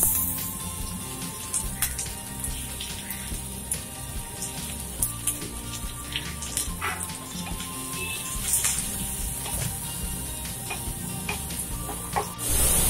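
Onion and green chilies frying in hot oil in a kadai with mustard seeds and curry leaves for a mixed vegetable thoran, giving a steady dense sizzle with small crackles and pops throughout.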